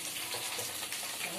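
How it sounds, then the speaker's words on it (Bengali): Onions fry in hot oil, giving a dense, continuous hiss and crackle, close and fairly even, with a voice talking over it. "ভাজা হচ্ছে, আর এখানে তেল গরম হয়ে গেছে পেঁয়াজ।"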